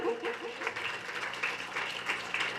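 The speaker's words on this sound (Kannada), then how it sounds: "ನಿಮ್ಮೆಲ್ಲರ ಜೋರಾದ ಚಪ್ಪಾಳೆ ಬರಬೇಕು" Audience applause welcoming guests at a make-up education event: steady, moderately loud clapping from a crowd throughout, with a few faint chuckles mixed in.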